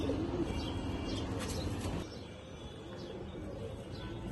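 Bagha silver pigeons, including a big-headed male, give steady low cooing close by, the calls running under a dense background that drops in level midway.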